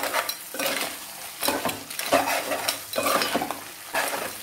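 Crabs being stirred into fried, hand-pounded masala in a pan for crab gravy curry, with repeated scraping stir strokes and steady sizzling, close and loud with no talking.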